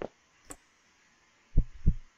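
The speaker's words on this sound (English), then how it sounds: "my heartbeat is just going crazy all of a sudden" Heartbeat effect in the 2013 horror game One Late Night, heavy low thumps in a lub-dub pair, near and alone in quiet, with a couple of faint clicks earlier.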